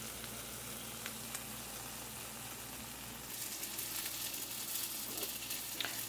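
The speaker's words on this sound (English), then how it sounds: "let it simmer with the onions" Onion gravy simmers in a pan with a steady, close sizzle and bubbling hiss that grows a little louder partway through, no voices present.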